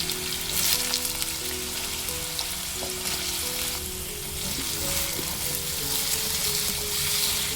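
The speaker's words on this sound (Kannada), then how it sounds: "ಇವಾಗ ಈ ಆಲೂಗಡ್ಡೆನ ನಾವು ಈ ಎಣ್ಣೆಯನ್ನು ಬಿಸಿ ಮಾಡೋಕೆ ಇಟ್ಟಿದ್ದೀವಲ್ಲ ಅದ್ರ ಒಳಗಡೆ ಹಾಕೊಳ್ಳೋಣ" Raw potatoes fry in hot oil with a loud, steady, close sizzle that stays constant throughout, with faint stirring and no voices.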